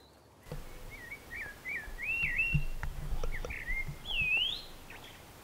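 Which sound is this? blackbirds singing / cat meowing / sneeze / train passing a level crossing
blackbirds singing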